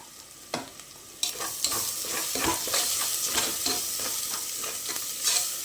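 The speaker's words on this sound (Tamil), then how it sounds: "நல்லா ஒரு 2 நிமிஷம் ஃப்ரை பண்ணால் போதும்." Masala fries for a beef curry with a continuous loud sizzle, while a utensil scrapes and clatters against the pan in repeated stirring strokes close by.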